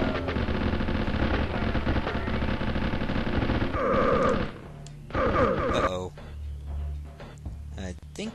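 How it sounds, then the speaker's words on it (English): A submachine gun in the video game Shadow Man fires in long rapid automatic bursts, loud and continuous, then breaks off into a few shorter volleys and low rumbling effects. "I think I'll use the submachine gun"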